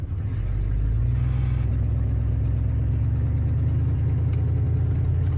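A 1976 Ford truck with a 390 FE V8, 4-speed and a holed exhaust runs in granny low gear while pulling posts and stumps, giving a loud, steady, deep engine rumble throughout with no break.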